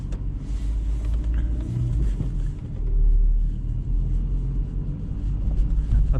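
A car engine hums steadily with low road rumble on a night drive through the town of Brasov, Romania, the smooth drone continuous and fairly loud from inside the cabin, with no talking.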